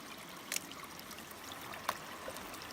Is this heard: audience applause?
no